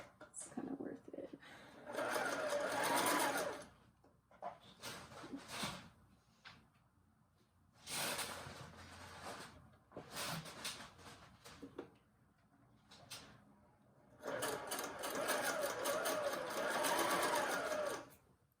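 A sewing machine stitches a French seam on a men's shirt in several bursts of rapid whirring, separated by short pauses and quieter handling noises.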